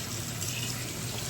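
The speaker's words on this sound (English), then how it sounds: "We're gonna get this a good washing." Steady, continuous running water rinses a Draco gun, a dense, even splashing like a tap or hose stream that stays at a constant close-up level for the whole short moment, with no voices.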